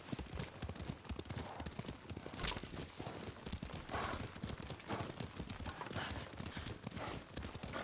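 Horse hooves clip-clopping steadily while riding in the video game Ghost of Tsushima, a continuous quick rhythm of hoof falls mixed with game sounds.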